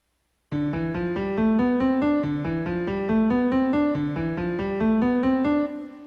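A piano plays the D Dorian scale on the white keys note by note at an even pace, climbing steadily upward from D with clear, ringing tones and no voices.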